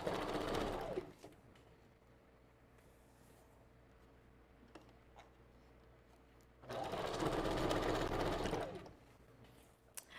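A sewing machine stitching and back stitching a custom glueless wig with curly hair, two loud close bursts of rapid whirring at the start and again later, separated by a quieter stretch of faint handling.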